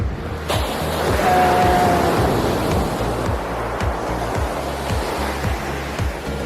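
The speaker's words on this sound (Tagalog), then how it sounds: "Medyo maalon siya." Ocean surf rolling in at Paz Beach in San Narciso, Zambales, a steady broadband wash of rough waves with wind buffeting the microphone, continuous and fairly loud with no voices.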